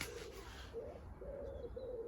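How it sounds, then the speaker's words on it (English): A pigeon coos in a quiet outdoor spot, a few soft, repeated calls that come and go over a low, steady background, with no one talking. "It's lovely and quiet here except for that pigeon."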